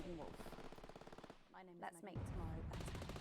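Rapid machine-gun bursts rattle in fast, even repetitions in the video game Not for Broadcast, followed by scattered gunshots, all somewhat faint and mixed with game voices talking.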